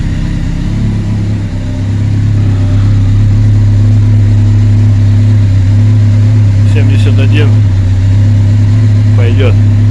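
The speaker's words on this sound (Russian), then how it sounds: "Все, прогрел мотик." A Honda CBR 1100XX motorcycle engine runs steadily at idle after warm-up, loud and close with a constant low hum, and a few faint clicks near the end.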